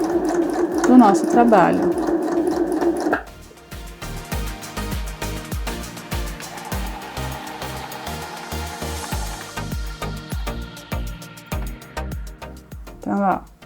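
A sewing machine stitches a seam through crystal plastic, backstitching at the start and end. Quick rhythmic bursts of mechanical stitching follow a stretch of talking, close and fairly loud, with a voice heard over parts of it.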